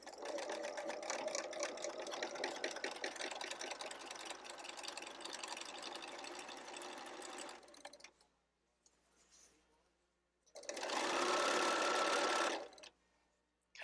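A sewing machine back stitches through thick fabric for a pillow case, running steadily and loud for about eight seconds, then pausing before a second burst of a couple of seconds.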